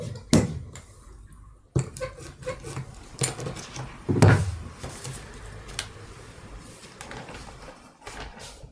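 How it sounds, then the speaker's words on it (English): A baren rubs over washi paper laid on an inked block in Japanese woodblock printmaking, giving close, continuous scraping and rubbing strokes with a few sharper knocks, and no talking. "Sitting here with Japanese tools and barren and washi and rubbing this"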